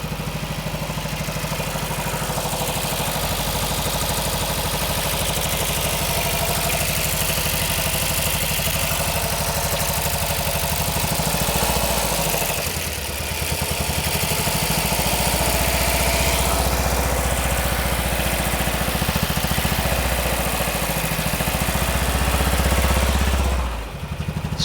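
An 80s classic car pulled from a barn after twenty years parked idles steadily with a slightly lumpy, misfiring beat, a loud continuous engine drone close by with no talk over it.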